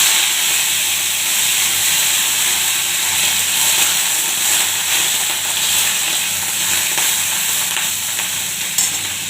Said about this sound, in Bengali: তেল দিয়ে দিচ্ছি কড়াইতে, নিম পাতা দিয়ে দিচ্ছি